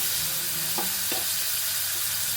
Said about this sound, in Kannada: ಆಲೂಗಡ್ಡೆ ಹಾಕ್ಕೊಂಡು ಫ್ರೈ ಮಾಡಿಕೊಂಡ್ರೆ